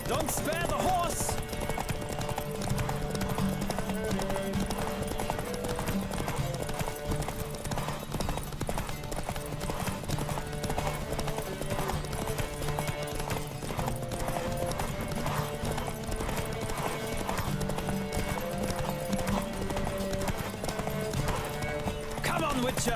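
Steady rhythmic clip-clop of galloping hooves from a horse in The Witcher 3: Wild Hunt runs throughout over a busy music-like background, loud and continuous, with a brief whinny early on.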